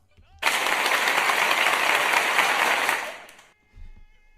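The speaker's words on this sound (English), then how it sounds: "let's give a round of applause to my man Trekk with 2Ks" A sustained burst of applause for a podcast guest joining a live online show, starting abruptly, holding steady and loud for about two and a half seconds before fading out, with a brief low noise afterward.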